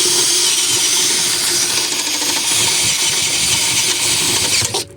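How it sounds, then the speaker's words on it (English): A power drill bores steadily into a Humvee ignition switch, loud and close with a harsh continuous whine for nearly five seconds before cutting off abruptly. "Do that by drilling this out."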